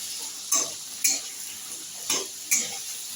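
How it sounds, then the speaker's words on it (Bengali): Food frying with turmeric and salt sizzles softly in a pan while a utensil scrapes and taps the pan in four distinct strokes, with no voices. "একটু হলুদ আর একটু লবণ দিয়ে একটু ভাজা ভাজা করে নেব।"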